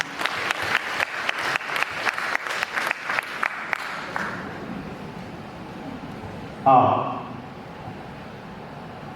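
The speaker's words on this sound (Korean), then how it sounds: "뜨거운 박수로 KTS를 모셔보도록 하겠습니다" At a reconstruction owners' meeting, a small audience welcomes KTS Engineering presenters with a few seconds of distinct, fairly sparse handclaps that then fade into room noise, followed by a brief bump from a microphone.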